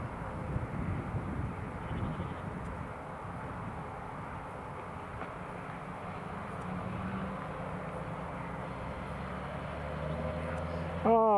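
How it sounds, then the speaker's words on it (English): Emirates Airbus A350 taxiing at Newcastle International Airport, a steady distant engine rumble and whine that rises slightly toward the end, with wind buffeting the microphone. "As the Emirates just taxiing. Mighty Airbus A350."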